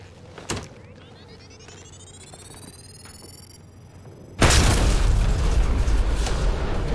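In the game Mass Effect Andromeda, on the planet Elaaden, rising electronic whines build for several seconds before a huge explosion erupts and rolls on as a loud, sustained roar.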